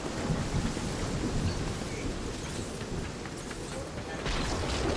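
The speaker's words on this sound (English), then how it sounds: "I can't stay in the storm, dude." A storm in an online video game roars as a steady, dense wash of rain and wind noise with rumbling low thunder, loud and unbroken for about five seconds, with no clear talk.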